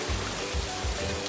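Steady rainfall hisses evenly and fairly loudly, a broad wash of water sound with faint rhythmic low thumps underneath and no talking.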